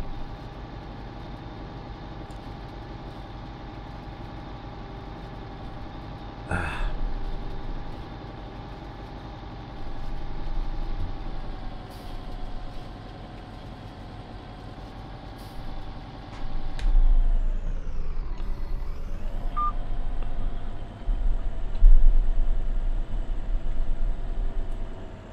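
A heavy farm vehicle's engine in Farming Simulator 19 idles with a steady low rumble, then swells as the throttle opens, rising and dipping in pitch with a sharp hiss partway through.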